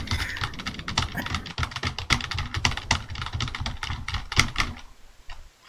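Rapid clattering keystrokes on a computer keyboard, dense and continuous at close range, fading out near the end.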